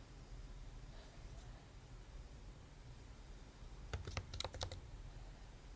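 Password being typed on a computer keyboard during a macOS software install: a quick burst of several crisp key clicks near the end, heard up close over a steady low hum, with no talking.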